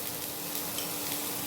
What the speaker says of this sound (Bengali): এটাকে একটু ভেজে নিচ্ছি।